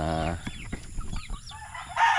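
A chicken clucks close by in short, choppy bursts, with a brief drawn-out call at the start and end.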